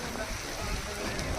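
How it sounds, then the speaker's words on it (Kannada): Rain falls on the hilltop at Nandi Hills during a monsoon ride, a soft, steady hiss of drops on surfaces, quiet and unbroken for a brief moment. "ಮಳೆ ಬರ್ತಿದೆ."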